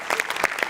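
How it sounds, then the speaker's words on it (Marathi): A short burst of applause for a writer on a Marathi comedy show, with a few sharp, distinct claps over a second or less. "याच्यात तुझ्या लेखकासाठी जोरदार टाळ्या एकदा"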